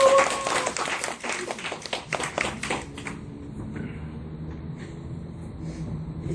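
A lecture audience breaks into brisk, dense clapping for about three seconds, then the applause dies away into a quiet room.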